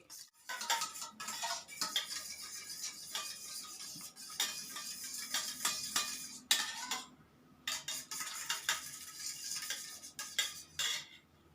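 A cake batter of milk, oil and sugar stirred briskly in a bowl, utensil scraping and clinking against the sides in a steady rhythm, close up, with two brief pauses and no talking.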